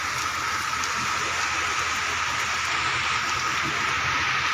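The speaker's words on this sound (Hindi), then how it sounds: "तेज़ बारिश की वजह से" Heavy rain pours steadily during demolition of illegal houses on a four-lane highway bypass in Kangra, a dense continuous hiss with a faint low rumble beneath, loud and unbroken throughout.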